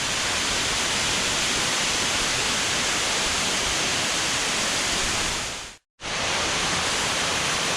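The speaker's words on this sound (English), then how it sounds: "This waterfall here definitely has a few neat features that the other one doesn't" A waterfall in a cave area near the small town of Paramo, Colombia, roars as a loud, steady broadband rush that cuts out abruptly for a split second before resuming just as strongly.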